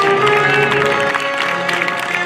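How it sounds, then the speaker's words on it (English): Airshow crowd at the Great Texas Airshow applauding the US Army Golden Knights as an aircraft passes: a steady, dense wash of clapping and cheering that holds loud throughout, with a faint tonal hum beneath. "how about one more huge round of applause for your United States Army Golden Knights"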